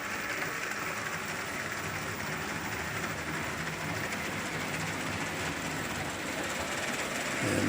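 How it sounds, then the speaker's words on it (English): A LEGO 1:48 scale EMD F7 A and B locomotive model pulling a heavy train up a 4% grade on a layout, a continuous close rolling rumble with a faint rhythmic clatter of wheels on track. "the locomotive is plenty powerful to pull a heavy train up the grade"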